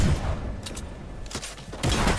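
Gunfire in the Playground video game sounds as a few quick bursts of shots and thumps, moderately loud, spread across a short stretch with no talking.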